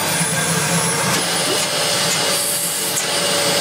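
A Bush VCS35B15K0D-70 vacuum cleaner, an Argos model found in a car park, runs with a loud, steady, broadband roar that holds constant throughout, with no talking.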